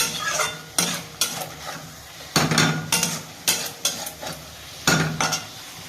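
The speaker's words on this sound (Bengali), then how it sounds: "আলু বেগুনটা দিয়ে দেবো। বেশি নাড়াচাড়া করবো না, একটু নেড়ে দেবো।" Potato and eggplant get stirred into fried masala for a Bengali fish curry, a spoon scraping and knocking against the pan in repeated close, loud strokes over a soft sizzle.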